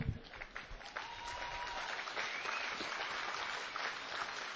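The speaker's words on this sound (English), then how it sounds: "Good, you can clap." Audience applause at a talk, a steady wash of clapping that holds for several seconds at moderate distance, with a few voices mixed in.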